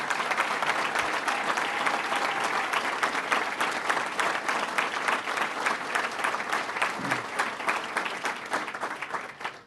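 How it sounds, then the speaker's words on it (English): Sustained applause from an audience at a North Country regional economic development council event, steady and full for the whole stretch, gradually tapering off at the end. "So let's give them another round of applause."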